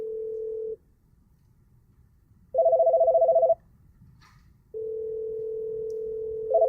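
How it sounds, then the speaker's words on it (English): An office phone on a 3C client calling system rings with an incoming call: long, clear electronic tones separated by short silences, close and alone, with no talking. "Apple 1's phone is ringing, as well as Apple 1's 3C client shows there is an incoming call."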